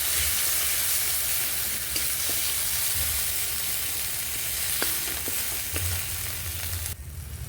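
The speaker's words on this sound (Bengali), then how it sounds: "এটাকে ভালো করে আমি নাড়িয়ে দিচ্ছি।" Chili and turmeric powder being stirred in a frying pan while cooking okra and potato curry: a steady, close sizzle of frying runs throughout, broken by a few scattered light scrapes and taps of the spoon.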